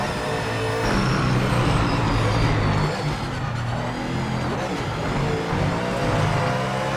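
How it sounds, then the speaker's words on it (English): A racing car engine in the video game Project Motor Racing drones loudly and continuously through a lap, rising and falling with throttle and gear changes. "We're gonna do our first lap."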